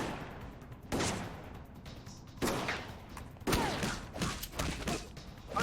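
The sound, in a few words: gunfire from enemies shooting in video game Alpha Protocol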